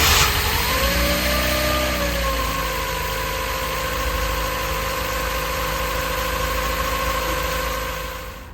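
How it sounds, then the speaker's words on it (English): A barn-find Vauxhall Corsa with a fresh timing belt and crank sensor turns over and settles into a loud, steady idle close by, the engine note holding even before fading slightly at the end. "Hopefully it'll start this time."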